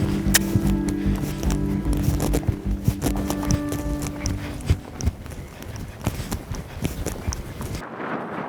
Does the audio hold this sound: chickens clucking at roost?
no